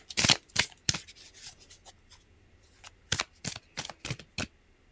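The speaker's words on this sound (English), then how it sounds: "hold while we shuffle." A deck of cards is shuffled in sharp, crisp bursts of riffling, loud and close, with short pauses between the flurries and no voices.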